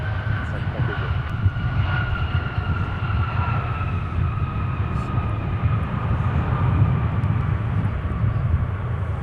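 An airplane lands on runway 17 at MSP airport, its engines a steady, broad roar with a thin whine on top, sustained and fairly distant throughout.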